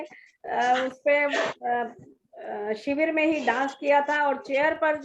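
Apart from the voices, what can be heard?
No everyday noises stand out.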